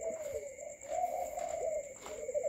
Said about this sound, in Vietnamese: Giờ chim con vô thùng này nó ấm rồi nè, vô sớm cho nó ấm không sao hết ha.